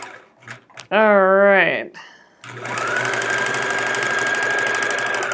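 A sewing machine stitches quilt scraps into chevron pieces. A brief spoken remark comes first, then the machine settles into a steady, rapid, close-up mechanical run.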